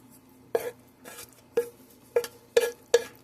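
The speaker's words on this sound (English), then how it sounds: "So we're gonna add in our ground meat filling." Spoonfuls of ground beef filling dropped and pushed around a small silicone pan, six soft, separate wet thuds and scrapes at an uneven pace, close and fairly quiet.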